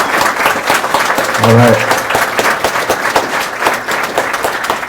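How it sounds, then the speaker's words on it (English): Audience applause for the Vermont governor at a legislative breakfast hosted at a steakhouse, a dense, sustained clapping throughout with a brief spoken interjection partway through. "let's give the most popular governor in the state of Vermont a round of applause"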